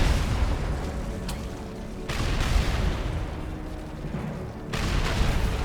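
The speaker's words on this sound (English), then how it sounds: "have your hydrofoil fire on that Soviet apocalypse tank on the shore" A hydrofoil in Red Alert 3 firing on a Soviet Apocalypse tank on the shore, rumbling bursts of cannon fire and booming blasts in two or three heavy waves.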